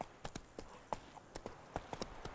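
Horse hooves galloping in The Witcher 3: Blood and Wine, a steady rhythmic clip-clop of distinct hoofbeats at moderate distance over a quiet background.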